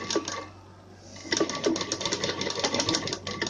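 A sewing machine stitches along folded fabric for a smocked neckline, a quiet start giving way to a steady rapid needle clatter that runs close and continuous to the end.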